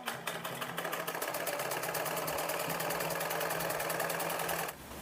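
A sewing machine runs continuously while stitching a kurti, its rapid even needle chatter close and steady for several seconds before easing off at the very end.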